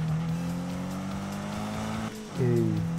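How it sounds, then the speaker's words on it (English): A racing car engine in the Need for Speed video game drones at high revs, shifts with a brief dip, then roars back up, loud and continuous. "this car sounds so nice"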